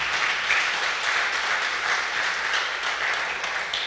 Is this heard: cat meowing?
no